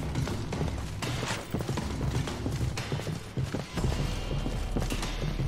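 In the medieval combat game Mordhau, a horse's hooves clip-clop in a steady, close rhythm. Faint mechanical creaks run beneath the hoofbeats, and there is no speech.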